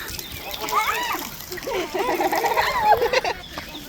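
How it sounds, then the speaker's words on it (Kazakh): Water splashing and spraying during a children's water fight at a zoo, irregular splatters and sloshes close by, with children talking and shouting over the splashing. "Давай, су сеуің балдарға."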